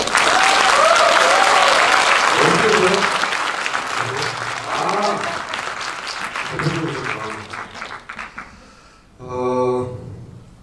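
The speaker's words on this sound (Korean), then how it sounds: "여기 시네마 달 대표 김일곤한테 박수를 드립니다" A film-screening talk audience in Korea bursts into loud, dense applause for a film distributor's head, the clapping thinning out gradually before a voice speaks near the end.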